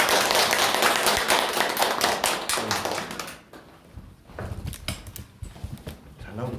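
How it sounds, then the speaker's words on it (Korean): An audience gives a CEO a round of applause, dense clapping at first that thins out midway into scattered claps and thumps as a voice begins talking. "윤정열 대표이사님께 큰 박수 부탁드립니다"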